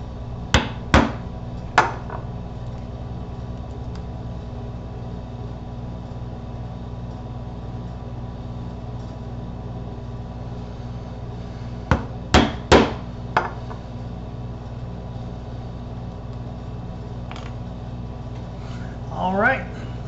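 A hammer striking a scratch awl to punch holes in leather for a clutch wallet gives a few sharp, separate taps, a pair near the start and a cluster later, over a steady low background hum.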